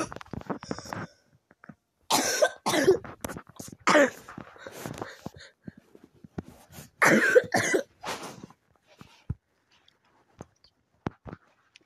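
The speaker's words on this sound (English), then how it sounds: "If you guys hear me coughing a lot, this is a disclaimer right here." Repeated bursts of allergy coughing, several harsh hacking fits spaced apart with quiet gaps and small throat noises between, close to the listener.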